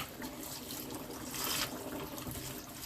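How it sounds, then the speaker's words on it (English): Water sloshes and pours as it is emptied from a gem wheel used for polishing rocks, a short close splashing trickle that swells briefly in the middle. "we're going to empty the water from the gem wheel on there"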